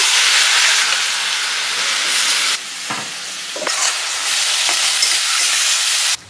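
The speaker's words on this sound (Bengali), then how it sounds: "পেঁয়াজটা কুচি করে নিয়েছি, ফ্রাই করব।" Chopped onions frying in hot oil with whole spices and bay leaf, giving a loud, dense, steady sizzle that briefly drops and returns as the onions are stirred, with scraping knocks in between.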